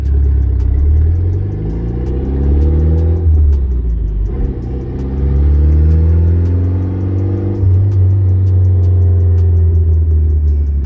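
A car drives along with a steady low engine drone that rises and falls as it shifts, with faint rhythmic ticking over the rumble.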